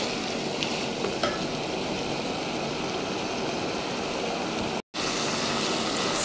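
Pilau rice frying in a cooking pot while being stirred, a steady, fairly loud crackling sizzle with light scraping that runs throughout, broken by one brief dropout near the end.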